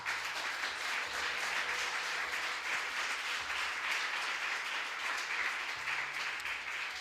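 A church congregation applauds steadily and fairly softly, with a continuous wash of clapping from many hands that lasts throughout.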